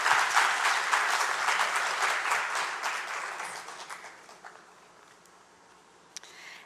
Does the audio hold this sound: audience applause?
yes